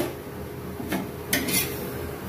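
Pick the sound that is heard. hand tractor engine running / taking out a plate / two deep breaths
taking out a plate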